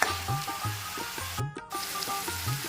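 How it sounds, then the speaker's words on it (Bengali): Masala spice paste sizzles as it fries in oil for a prawn malai curry, a steady crackling hiss broken by rhythmic scraping stirs with a brief pause midway. "আমি মশলাটাকে করতেই থাকবো যতক্ষণ না মশলাটা একদম, আমি দেখেছি লাল হয়ে তেল বেরিয়ে এসছে"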